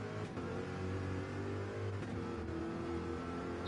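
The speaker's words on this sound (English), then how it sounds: "Good to hear the purrs of that Corvette engine" A Corvette GT race car at the Nürburgring 24 Hours roars with a steady, loud, continuous engine drone, holding a sustained revving tone throughout with no voices.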